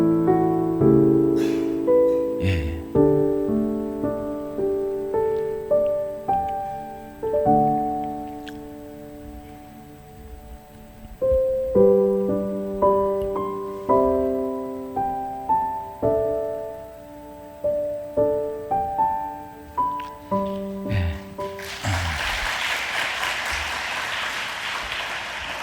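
Piano notes ring out for most of the stretch, then a church congregation at a youth dedication service breaks into a few seconds of full, dense applause at the end.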